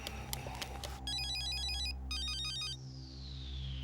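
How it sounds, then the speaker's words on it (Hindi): A telephone rings in a Hindi TV serial scene, a sequence of bright electronic warbling ring bursts repeating over a low background hum, with no talking during the ringing. "टेलीफोन।"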